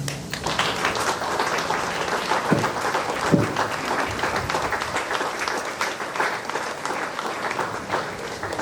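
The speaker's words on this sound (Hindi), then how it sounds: "हम सब ताली बजाएं।" A crowd at a Catholic prayer gathering, the blessing of Lievens Well at Manresa House in Ranchi, claps together in steady, dense applause that holds evenly for about nine seconds without voices standing out.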